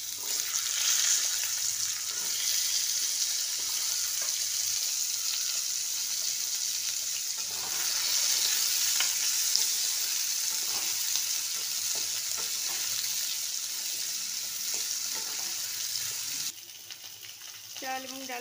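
Vegetables (potatoes, carrots, pointed gourd and pumpkin) sizzle steadily in hot oil for Bengali khichuri, a continuous close hiss with faint stirring clatter that cuts off abruptly near the end.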